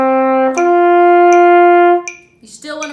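A trumpet plays two sustained half notes, a D and then an open G with the slide kicked out, each cleanly tongued and loud up close, followed by a brief break into further notes.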